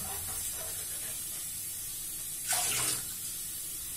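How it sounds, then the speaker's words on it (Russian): Water hisses steadily from a tap as a diving mask is rinsed, with a brief louder splash and spray partway through. "потом смываем водой"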